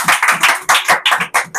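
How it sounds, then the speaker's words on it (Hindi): Congregation clapping during a church service, loud, close, irregular bursts of hand claps repeating in quick succession without speech. "एक ताली हो सकती है परमेश्वर के लिए।"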